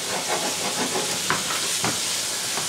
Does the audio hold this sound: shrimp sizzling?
yes